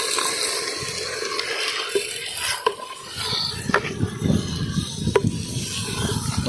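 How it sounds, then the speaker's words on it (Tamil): Water poured into a pot of country chicken soup with pounded garlic, a soft splashing pour over sizzling, with a few clinks of utensils against the pot, fairly close. "கொஞ்சமா தண்ணி ஊற்றிக்கலாம்."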